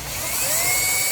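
Power screwdriver driving the side screws of a single-gang electrical outlet, a brief close whirring motor whine that rises steadily in pitch and loudness.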